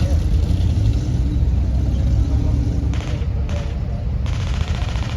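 Valentine DD tank rolling past at a military vehicle show, a loud, continuous low engine and track rumble filling the outdoor scene throughout.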